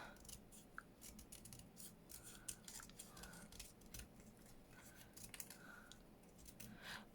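Scissors snipping around paper for a handmade junk journal envelope, a quiet run of small crisp cuts in irregular bursts, close up with faint handling noise between snips.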